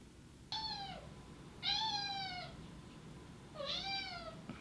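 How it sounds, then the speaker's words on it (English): A hungry pet cat meows three times indoors, each meow clear and fairly close, with drawn-out rising-falling tones over a quiet low background hum. "Do you hear this cat right now?"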